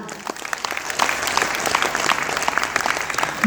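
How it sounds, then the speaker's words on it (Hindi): Applause from an audience at a talk, a steady wash of many hands clapping that holds fairly loud for several seconds. "जोरदार ताली"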